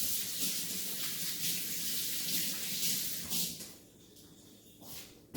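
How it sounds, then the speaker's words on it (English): Hands are rinsed under a running kitchen tap while a sweet potato cobbler is being made. Steady, close water hiss fills about three and a half seconds, then cuts off, leaving a quieter room with faint movement. "let me rinse my hands real quick."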